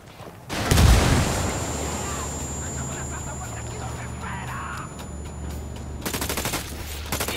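A frag grenade going off in Ghost Recon Wildlands, a sharp heavy boom early on followed by a long rumbling decay, with more gunfire bursts toward the end.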